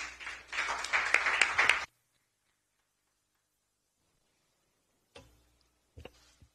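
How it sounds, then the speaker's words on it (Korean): Applause at a Democratic Party candidate recruitment event: a short burst of vigorous clapping that stops abruptly, leaving near silence broken by a few faint knocks. "힘찬 박수로 맞아주십시오."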